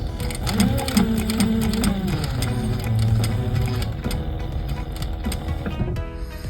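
Sewing machine steadily stitching a seam while trimming inside holes, a loud, continuous mechanical whir running the full length with a slight slowdown near the end.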